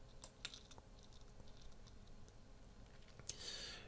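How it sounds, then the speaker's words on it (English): Faint, sparse computer mouse clicks while working in PowerDirector video editing software, a few isolated taps spread over a quiet background. "So I'm going to click on OK."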